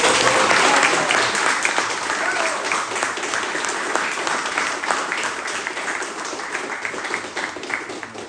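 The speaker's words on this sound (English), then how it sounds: "Let's give him a round of applause." A seminar audience applauds a belt promotion, dense and loud clapping right from the start that fades gradually over several seconds, with a few voices faintly mixed in.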